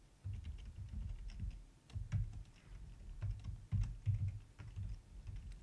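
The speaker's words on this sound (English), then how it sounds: "I can type without looking at the keyboard." Fingers type steadily on a computer keyboard, a close, quiet run of irregular clicking keystrokes with no voice.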